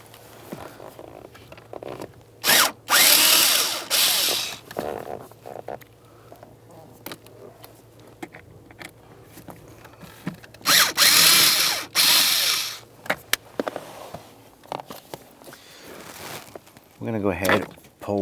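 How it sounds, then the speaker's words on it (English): A power tool fitted with a 7/32 socket removes the blower motor resistor on a 2004-2012 Chevrolet Colorado, heard as several loud whirring drill bursts of one to two seconds separated by quieter handling sounds and talk. "use our 7/32 socket to go ahead and remove this"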